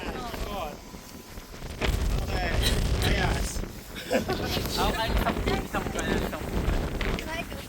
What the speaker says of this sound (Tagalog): Lakas ng hangin to, parang binoblower yung dagat to.